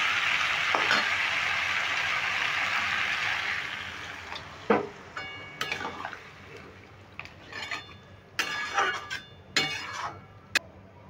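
Water poured into a sizzling jackfruit and paneer masala gives a loud burst of hissing that fades over a few seconds, followed by scattered clinks and stirring scrapes in the pan.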